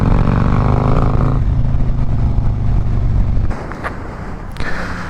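A Harley-Davidson Road King motorcycle pulls away with a deep, loud engine rumble up close that drops off sharply as it rides off, leaving fainter road noise.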